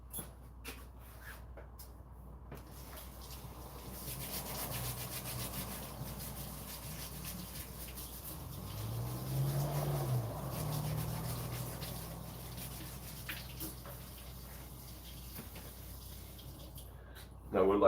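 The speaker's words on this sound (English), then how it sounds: "I used a coconut brush like this. And what it allows me to do is clean my potatoes underneath that water really well" A coconut brush scrubs potatoes under running water, making a soft, continuous rubbing that swells in the middle and stays faint and close throughout.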